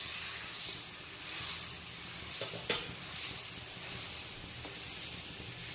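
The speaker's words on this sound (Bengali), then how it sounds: "ঝোলটা কিন্তু অলরেডি টকবক করে ফুটতে শুরু করেছে" A steady, close bubbling hiss of hilsa fish curry broth with eggplant coming to a rolling boil in a pan, with a couple of faint clinks partway through.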